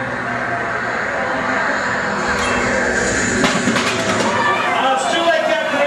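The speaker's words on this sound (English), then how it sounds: "It's a fighter coming in at 10 o'clock." A fighter plane effect roars in during a Hollywood Studios backlot studio tour show, a loud broad engine rush building over crowd noise and a host's voice, with crackling bursts toward the end.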